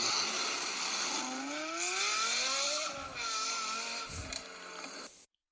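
A Lexus LFA engine howls loud and close, its high-pitched tone rising smoothly through the revs, dipping briefly, then climbing again before cutting off abruptly into silence.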